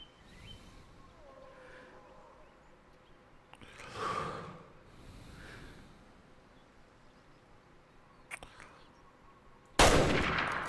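Hunting rifle in the video game Way of the Hunter firing a single sharp, loud shot near the end, after a stretch of quiet outdoor ambience with faint breaths and rustles.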